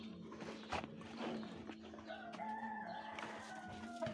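Chickens and a crowing rooster on a small farm that also keeps ducks and turkeys, with clucks and a crow rising over steady background bird noise, fairly close and continuous.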